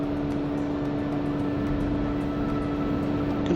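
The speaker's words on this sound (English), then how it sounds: "we're developing takeoff power" Cirrus SR22 G3 piston engine at takeoff power in the X-Plane 12 flight simulator, a steady loud drone with a strong low hum holding level throughout, with no talk.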